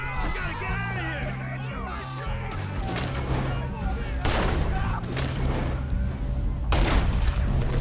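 Gunfire and heavy booms ring out in a Western shootout in Red Dead Redemption, dense overlapping shots and crashes under frantic shouting voices and background commotion.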